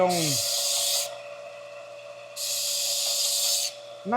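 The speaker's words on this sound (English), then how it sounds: "Get on this belt grinder. And that smooths this side up." Belt grinder smoothing the pitted side of a knife blade: the motor hums steadily while two loud hissing grinding passes, each about a second long, rise and fall close by.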